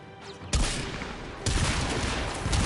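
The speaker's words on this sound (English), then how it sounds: "This weapon's kind of cool. It's like a big pirate cannon." A big pirate-style cannon weapon fires in Warframe, with two heavy, loud blasts about a second apart, each followed by a dense rumbling roar that lingers and fills the space.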